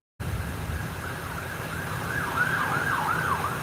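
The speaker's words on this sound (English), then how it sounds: "Yeah, I'm hearing a lot of sirens." A wailing police car siren rises and falls repeatedly over steady road rumble, growing a little louder toward the end.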